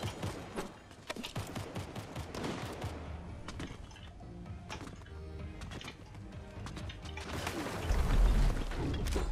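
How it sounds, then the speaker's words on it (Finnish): Rapid bursts of gunfire crackle through a Fortnite match, volleys of shots coming and going before a heavier, louder barrage near the end, with no talk. "Tulee joku ampuu."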